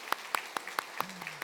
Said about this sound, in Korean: 여러분 박수를 쳐주세요.